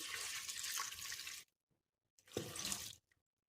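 Water poured into a pressure cooker holding vegetables for pav bhaji, in two close, steady pours of about a second and a half each, with a short quiet gap between them and no talk.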